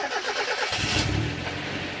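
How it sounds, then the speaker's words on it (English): An NB Mazda Miata with a repaired exhaust leak cranks briefly, then catches and settles into a steady, close engine run. "Go ahead, start the car now."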